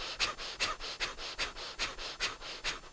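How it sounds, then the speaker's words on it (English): Rapid, forceful panting breaths during a yoga exercise, roughly seven sharp exhales in under three seconds at an even rhythm, close and clear with no talking. "we'll do intense breathing"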